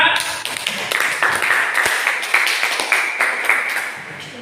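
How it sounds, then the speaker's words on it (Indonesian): A class of students claps in lively applause, with individual hand claps standing out close by and voices mixed in. "tepuk tangan untuk kita semua."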